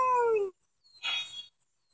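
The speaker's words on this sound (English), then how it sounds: "Good thing I can just howl." A wolf howls in an online wolf simulator game: a loud, tonal, falling howl is followed after a short silence by a second, noisier yelp-like cry.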